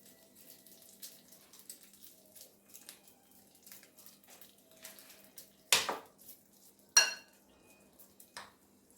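Urad dal chutney is mixed in a pot after the stove is turned off, with soft intermittent scraping and tapping of a spoon, then two sharper clanks of utensil against metal.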